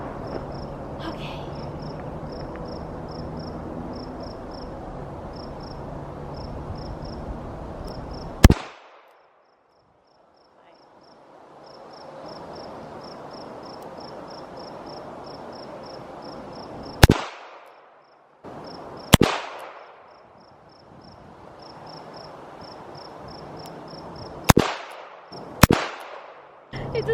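A Ruger LCR .38 snub-nosed revolver fired double action at an outdoor range, five loud sharp shots spaced several seconds apart, with crickets chirping steadily in the background between them.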